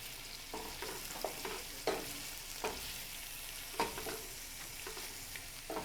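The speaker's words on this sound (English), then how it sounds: "I'm just stirring it to coat all the onions with the oil before I let it just sit." Onions are stirred in hot oil in a frying pan, a steady sizzle with several sharp scrapes and clacks of the utensil spaced through it, close and moderately loud, with no talking.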